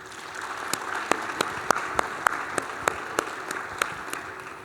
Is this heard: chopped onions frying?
no